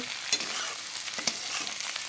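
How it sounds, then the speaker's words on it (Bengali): Onions frying with browned cauliflower and potatoes in a pan, a constant hiss of hot oil broken by a few sharp spatula scrapes as the mixture is stirred; no speech. "পেঁয়াজগুলো দিয়ে এখন আরও কিছু সময় ভেজে নেব"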